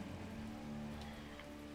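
Steady rain in the video game WolfQuest, a soft, even hiss of falling drops under a low hum, faint and continuous with no voices.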